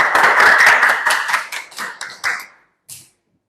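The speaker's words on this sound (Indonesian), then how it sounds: "Beri tepuk tangannya dong." A classroom audience claps hands together, a brisk burst of close, loud clapping that thins out and fades into scattered final claps before falling silent.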